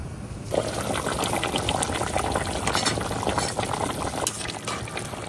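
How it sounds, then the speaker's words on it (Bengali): Fish curry broth with raw papaya and pabda fish boiling hard in a pot, a dense, continuous bubbling and churning close by, loud and steady with no voices. "খুব জোরে কিন্তু বলকাই আসা গেছে"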